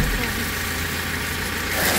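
A motor-driven water pump running in a yard, giving a steady loud mechanical drone with hissing water pressure and continuous noise, under background voices.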